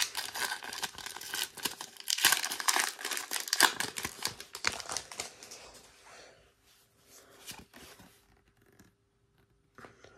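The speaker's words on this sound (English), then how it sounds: "let's open up these packs" Scarlet and Violet Pokémon card booster packs torn open, a dense run of crinkling foil and ripping, close and fairly loud, thinning out into scattered rustles and quiet gaps.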